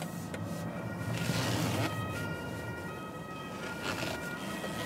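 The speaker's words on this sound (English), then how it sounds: "Is there any ambulance coming, or is it from the rear?" An ambulance siren on the road, heard from inside a BMW 3 Series G20 320d M Sport, steady and fairly faint beneath the car's road rumble, with no talking.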